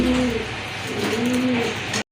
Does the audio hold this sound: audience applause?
no